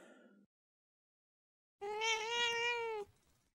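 A kitten stuck about ten feet up a tree gives one drawn-out, clear meow lasting over a second, preceded by a brief sound and silence.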